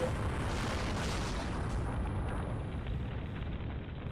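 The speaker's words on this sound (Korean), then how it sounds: "미국의 전함 메이노가 엄청난 굉음과 함께 폭발하며 바닷속에 침몰해버립니다" The battleship USS Maine explodes in Havana harbor in 1898 with a sustained, distant-sounding roar, a steady broad rumble that slowly eases off toward the end.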